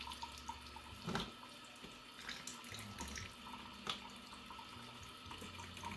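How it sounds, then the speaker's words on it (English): A tap on well water runs in a thin, steady trickle into a sink while onions are water-bath canned, close and quiet, with faint clinks now and then and no talking. "just run your water real slow"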